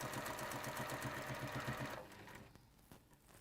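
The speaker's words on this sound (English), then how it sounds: "That sounds as though I've just run out of bobbin." A sewing machine doing top stitching runs steadily and loudly for about two seconds as its bobbin thread runs out, then stops, leaving faint clicks and handling sounds.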